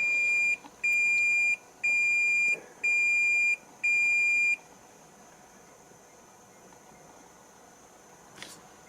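A Pioneer DMH-2660NEX car stereo beeps as it boots up: five steady, evenly spaced electronic tones sound close and clear, then fall silent apart from a faint tick, with no talk.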